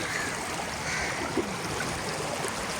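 Floodwater sweeps fast across a road into a village, a steady, dense rushing roar of water that holds at an even level throughout with no voices.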